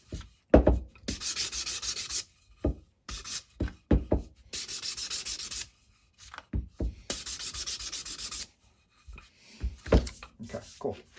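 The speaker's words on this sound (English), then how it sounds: "Sometimes I get very excited with my sanding." Wood being sanded by hand at close range, including work on the corners, comes as bursts of loud, rough scratchy strokes separated by pauses, with thumps and handling clatter between them and no talk.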